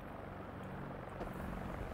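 Propeller engines of a Douglas DC-3 C-47 in the X-Plane 11 flight simulator drone steadily at low volume, a continuous rumbling hum with no voices.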